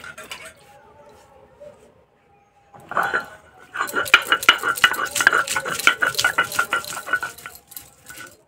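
Garlic is ground into paste for a broiler chicken curry, heard as a steady stretch of rapid, rhythmic scraping and knocking on a grinding surface that follows a quieter opening, with a voice talking over the start.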